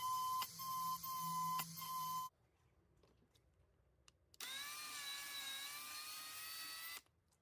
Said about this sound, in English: a neat trick is to use a diamond burr to cut a straight slot